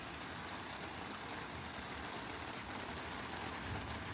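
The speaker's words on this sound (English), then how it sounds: "we've got this summer squall and it's raining hard" A sudden summer rain squall pours down at a campsite in the Sierra Nevada mountains, a steady, dense hiss of hard rainfall, faint but continuous with no voices.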